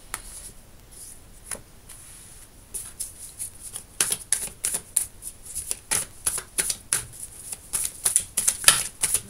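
Tarot cards gathered from a table and shuffled, soft scattered slides giving way to a run of sharp, rapid riffling snaps that grow louder toward the end, with no talk.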